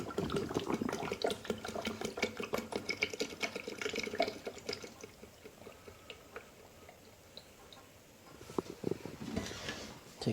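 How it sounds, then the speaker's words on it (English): Clean water runs into a mop bucket, a steady splashing, gurgling pour with drips, close and moderately loud, easing off midway before a brief louder splash near the end. "This is where your clean water goes."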